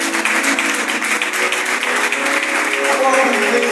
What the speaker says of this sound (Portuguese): Salvas de palmas em nome de Jesus